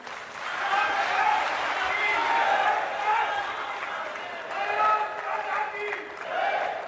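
Loud audience applause at a national conclave marking 100 episodes of Mann Ki Baat after a speech by the Home Minister, a broad clapping wash with a voice talking over it.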